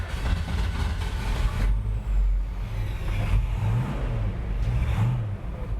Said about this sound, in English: When you start the engine, you can hear it here.